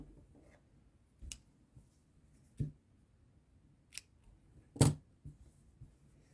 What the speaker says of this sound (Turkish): Şimdi burada bir zincir çekip ipimi keseceğim.